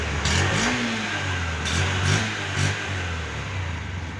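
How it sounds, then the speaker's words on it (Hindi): A Honda SP 125 BS6 motorcycle engine idles close by, its exhaust blipping through several short revs before settling back to a steady burble. "इसका आपने एग्जॉस्ट सुन लिया, साउंड क्वालिटी सुन लिए"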